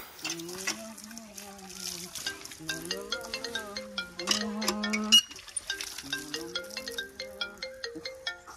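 A phone ringtone plays a bright, repeating melodic tune, loud and steady, looping its short phrase over and over.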